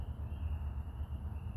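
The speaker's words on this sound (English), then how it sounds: "Hear the frogs?" Frogs croak at night as a steady, pulsing chorus with a high continuous trill layered over low, throbbing calls, with no voices.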